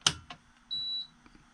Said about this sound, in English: we got beeping sounds and no sparks